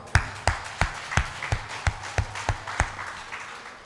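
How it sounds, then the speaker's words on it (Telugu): An audience at a brand ambassadors' meeting in Madurai, Tamil Nadu, claps in unison, about ten sharp, evenly spaced claps in a steady rhythm, moderately loud within a reverberant hall. "ఆ యజ్ఞాన్ని గట్టిగా క్లాప్స్ చేద్దాం"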